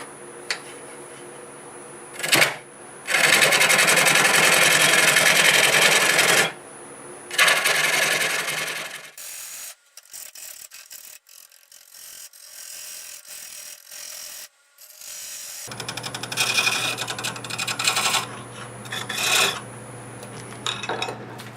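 A wood lathe turns a tenon on a black locust bowl, with long loud bursts of the gouge cutting and rasping against the spinning wood, separated by a quieter stretch where only the lathe runs.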